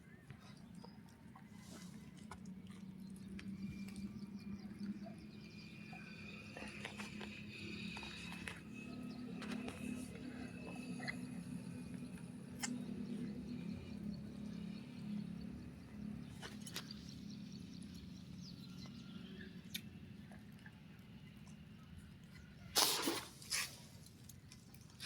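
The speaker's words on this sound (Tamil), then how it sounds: "மழை நல்லா பெரிய பெரிய தூத்தலா விழுதுல்ல எங்க?" Steady rain with heavy, fat drops pattering close by, a constant wash of noise with faint voices underneath and a brief louder clatter near the end.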